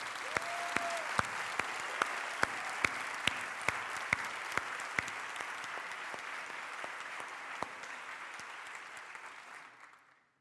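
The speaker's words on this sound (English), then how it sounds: "Let's give one more round of applause for this group." Audience applause for a performing group at a Living Last Supper 2020 performance: sustained dense clapping from a crowd, with a few sharp nearby claps standing out early on, gradually thinning and fading away over about ten seconds.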